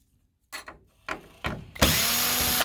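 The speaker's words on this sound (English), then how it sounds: "We're going to remove 2 screws," A power drill unscrews two screws from a cover in short whirring bursts, first a couple of brief spins, then a longer, louder sustained whir at the end, close by and with no talking.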